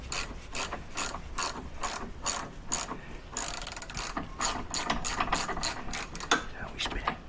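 Ratchet spanner clicking in steady repeated bursts on a Fiat Panda 100hp engine during an Abarth T-Jet turbo swap, the pawl chattering close and crisp with brief pauses between strokes, no talk.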